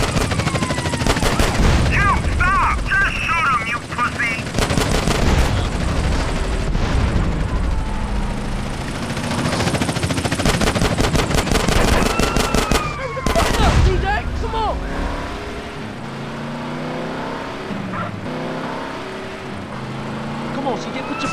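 Rapid bursts of gunfire crackle and boom during a drive-by shooting in GTA San Andreas, with repeated automatic volleys over a car's engine and frequent shouting voices, loud and close.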